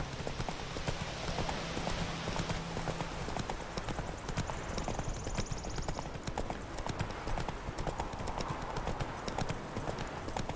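Horse hooves gallop at a steady clip-clop rhythm in the Witcher 3 video game, with a brief whinny and faint voices over continuous background game noise.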